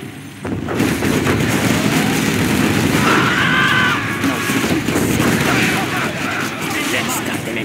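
Heavy inferno cannon artillery booms and rumbling gunfire fill a Command & Conquer Generals Zero Hour battle continuously, with explosions layered over a dense battle din.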